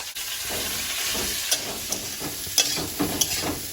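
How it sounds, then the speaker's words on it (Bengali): Pointed gourd frying in a pan with a little salt and turmeric, giving a steady close sizzle and hiss with a few sharp clicks and spatters of stirring. "পটলটা ভাজা হতে থাক"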